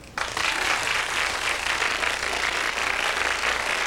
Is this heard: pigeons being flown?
no